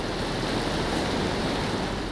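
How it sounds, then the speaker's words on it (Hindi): Fast, churning floodwater rushing during a flood near Prayagraj, a steady loud broadband roar of surging water close by, with no voices. "पानी का बहाव इस कदर तेज है कि अगले पल कुछ भी हो सकता है।"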